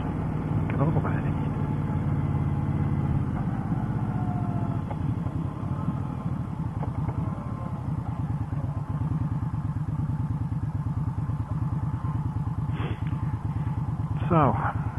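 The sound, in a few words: motorcycle riding close behind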